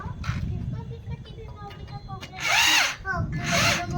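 A power drill tightens a dish TV mount in short bursts, with two loud, high whirring runs near the end and quieter clatter and handling noise between them.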